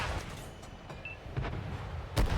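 A Type 62 tank in World of Tanks Console fires on an opponent amid the noise of battle, with several muffled booms and thuds scattered across the clip and a heavier blast near the end.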